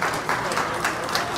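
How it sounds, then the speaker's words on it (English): A crowd at a bass fishing tournament on Lake Fork applauds, a dense, steady patter of clapping with a voice faintly mixed in. "Round of applause for this young man."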